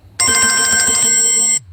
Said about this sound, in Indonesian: Malah bunyi-bunyi lonceng si Ongkor ini